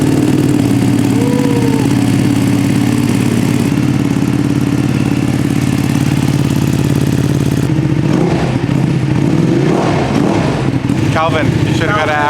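2025 Ducati Panigale V2 sport motorcycle engine runs loud and close with a steady throb, then the tone shifts and turns rougher partway through, with brief higher revs near the end.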